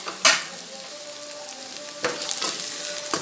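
Onion, garlic and crushed pepper sauté in a pan for a potato pepper fry, giving a steady close sizzle broken by a few sharp stirring scrapes.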